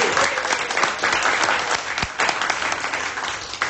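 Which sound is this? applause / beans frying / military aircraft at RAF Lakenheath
applause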